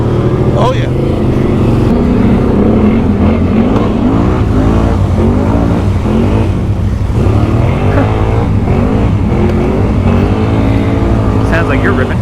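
Loud, close engine roar from a 2020 Can-Am Outlander XMR ATV swapped to an 850 engine, revving hard and surging repeatedly while riding rough ground, with a rider's voice breaking in over it.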